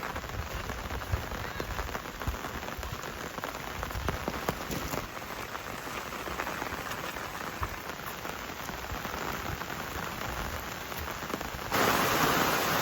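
Rain falls steadily outdoors around a farmhouse near fields, a dense, even patter close by that holds a constant level throughout and swells slightly louder near the end.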